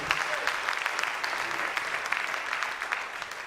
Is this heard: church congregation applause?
yes